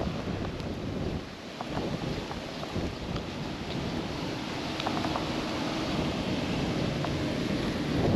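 Wind blows steadily outdoors in Finland, a broad rushing roar buffeting the microphone for the whole stretch, constant and fairly loud with slight swells and no voices.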